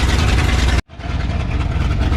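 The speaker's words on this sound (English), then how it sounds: "it's been sitting here idling for a bit" Ford F600 truck engine idling, a steady loud rumble that cuts out for a split second, then returns at slightly lower level and runs on evenly.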